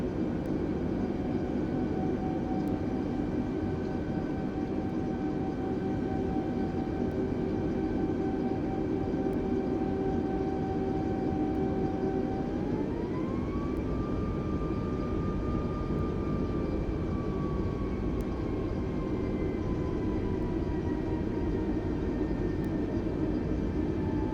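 A small aircraft taxis on the ground after a flight from Lorient, France, its engine a steady droning hum with a tone that shifts pitch partway through, continuous and fairly loud from the cabin with no talking.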